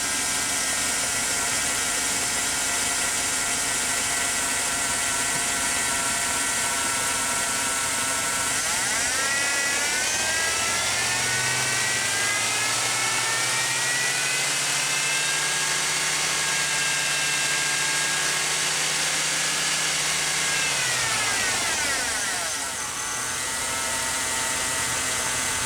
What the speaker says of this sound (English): Increase engine RPM to 2500